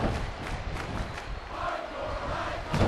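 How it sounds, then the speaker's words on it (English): Arena crowd noise from a wrestling video game, a steady broadband roar of fans cheering throughout, swelling slightly near the end, with no talk over it. "These fans cheering on the Violence King, also known as the DCW Hardcore Icon, J-Dub"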